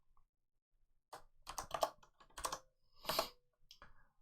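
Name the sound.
typing code on a computer keyboard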